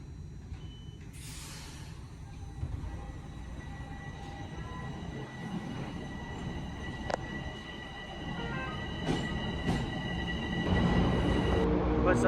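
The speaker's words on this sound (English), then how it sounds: "My tube's about to arrive." Toronto subway train pulling into an underground station, a steady rumble of wheels and motors building toward the end, with brief high squeals and tones over the roar and muffled voices in the background.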